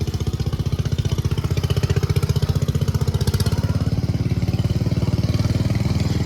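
A 1930 tractor engine running close by at a steady idle, a loud, even, rapid chugging pulse with no voices over it.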